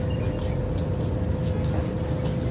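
The Shalimar Express pulls out of Ghotki railway station with a steady, dense rumble and a constant mechanical hum, loud and continuous with no talking.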